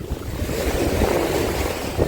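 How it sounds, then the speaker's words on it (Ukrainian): Steady wind blowing hard across a beach in Odesa, a continuous broadband roar with gusty rumble close to the microphone and no voices. "Цей вітер, він мені все з голови видув."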